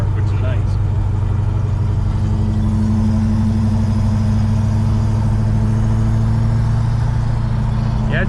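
A 1968 Oldsmobile Cutlass cruising on the road, its engine holding a steady, loud drone with strong low harmonics, heard from inside the car throughout.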